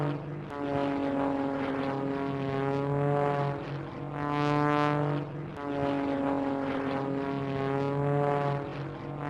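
A propeller airplane drones steadily overhead, its engine hum holding a strong buzzing tone that swells and fades slightly twice as it flies, with no other sounds.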